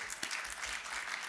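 Brief burst of audience applause at a leadership awards dinner; dense, even clapping from a roomful of people with a low rumble underneath.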